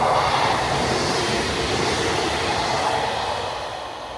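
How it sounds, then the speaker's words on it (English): A train passes through Cottingley station as a loud, broad rushing roar close by that slowly fades toward the end, with no voices. "Catch this train pass and we'll talk a little bit more about what's happened."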